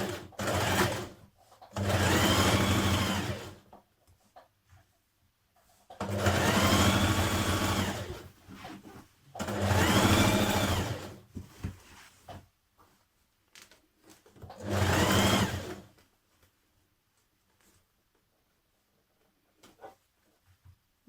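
A sewing machine stitches a trouser seam with a 1.5 cm allowance, running in four steady bursts of a few seconds each, separated by short pauses with faint handling noises, then falls quiet at the end.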